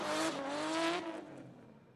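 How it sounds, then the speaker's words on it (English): Drift car on track, its engine screaming at the rev limiter in a harsh buzzing burst that fades away, heard from a distance amid crowd and track ambience. "If you're thinking that engine and limiter sounds, kind of familiar, you might be right"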